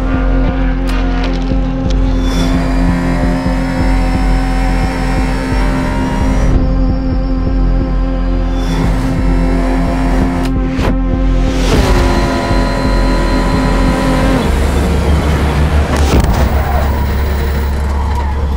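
A Le Mans-style race car pulls out of a slipstream and crosses the line, its loud sustained engine note shifting pitch as it passes, with voices talking over the roar.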